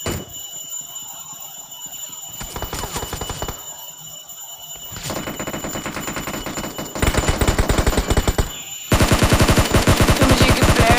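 Video game gunfire in PUBG as a player is shot down: loud, dense, continuous automatic bursts with rapid repeating shots that intensify toward the end, with no talking.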